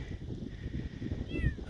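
A feral kitten in the wilderness along the Mavora River Track in New Zealand gives one short, high meow near the end, over a low rumble of wind and outdoor noise.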